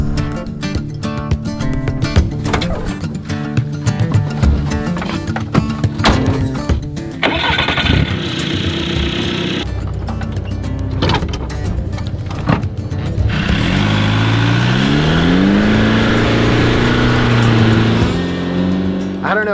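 A VW Vanagon converted to a turbocharged boxer TDI diesel engine cranks and starts, then idles and revs with a loud, close, gravelly diesel clatter, after which a steady rising engine drone takes over.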